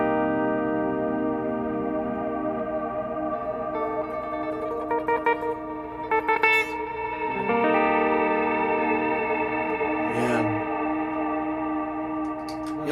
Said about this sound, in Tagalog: Meron din ako ditong particle reverb